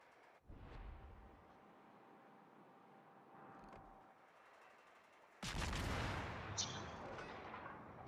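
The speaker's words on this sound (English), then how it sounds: "As our hero opens up, starts to fire right away" Naval ship guns firing in a warship video game: a quiet muffled boom early on, then a sudden loud salvo that sustains a dense roaring, crackling rumble with further impacts toward the end.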